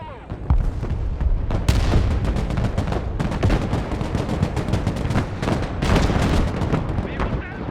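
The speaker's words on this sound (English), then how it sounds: "Artillery on the move." Artillery fire from the video game Broken Arrow fires in rapid, overlapping bursts of loud booms and sharp reports. It carries on almost nonstop, with heavy low rumble under crackling gunfire.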